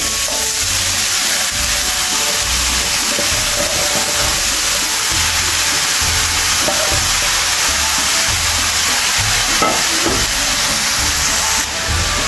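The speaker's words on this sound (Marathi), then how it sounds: "आता तेल आपलं छान गरम झालेलं आहे. त्याच्यामध्ये मी गाजर घालून घेते." Carrots for gajar halwa go into hot oil and fry with a steady, loud sizzling hiss that holds evenly throughout, with low rhythmic thumps underneath.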